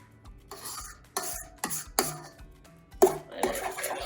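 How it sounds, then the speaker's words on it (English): A spatula scrapes around the sides of a mixing bowl of lemon blueberry cheesecake batter in a home kitchen, giving a series of short, close rubbing and scraping strokes with brief pauses between them. "I'm gonna scrape down the sides."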